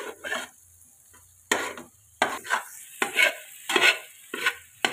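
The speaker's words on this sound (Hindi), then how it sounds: "जल्दी जल्दी से अब इसमें चम्मच चलाएं ताकि इसकी गुठलियाँ ना बने" A spoon stirs makhandi halwa in a pan in short, scraping bursts, about six strokes with brief pauses between them, close and fairly loud, with a faint sizzle underneath.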